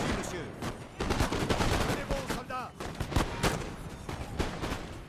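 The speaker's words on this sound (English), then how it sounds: "the French Fusiliers of the line here have already opened the fire" Musket volleys from French line fusiliers in the Napoleon Total War battle game, a dense crackle of overlapping shots from near and far over a constant battlefield din.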